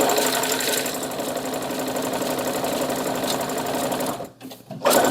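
An overlock sewing machine stitching fabric layers for a zippered pouch gives a loud, steady mechanical whir close up. It nearly stops for a moment near the end, then surges back.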